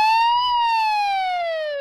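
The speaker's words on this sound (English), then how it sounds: "fire alarm," An emergency fire alarm: a single long, steady alarm tone slowly falls in pitch, loud and continuous, without any talking.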